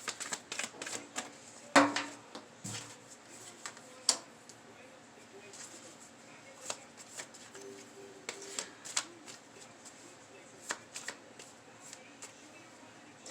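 Tarot cards shuffled by hand give quick, irregular papery snaps and riffles, close and fairly quiet, with one sharper slap near the start and faint murmuring talk in places.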